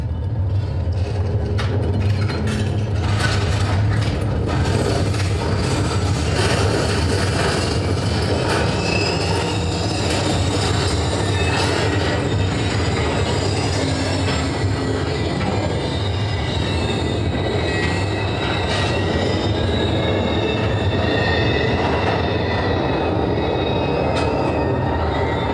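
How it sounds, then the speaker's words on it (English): A tornado roars close by with flying debris, a loud, unbroken rumble like a passing freight train, with rattling and clattering throughout. "I'm going to stop talking so you can hear the noise of a tornado"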